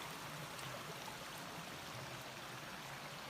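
A jungle river running low on water flows near a camping spot, giving a steady, soft, unbroken rushing hiss with no voices.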